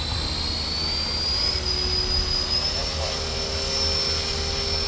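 A Blade 330S RC helicopter spinning up in idle-up mode, a steady close whine of motor and rotor whose pitch climbs gradually over constant background noise, with no talk.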